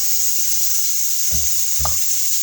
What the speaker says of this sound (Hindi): तो मैं भी छिलके डाल दिए, तो इसको भी फ्राई करके फिर आपको दिखाते हैं अच्छे से।